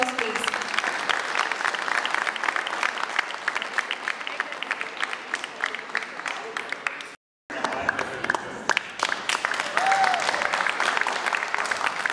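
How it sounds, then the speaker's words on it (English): An audience at a school class-of-1991 reunion applauds in a dense, sustained round, briefly cut off by a moment of silence midway before the clapping resumes just as loud. "Can I get some applause"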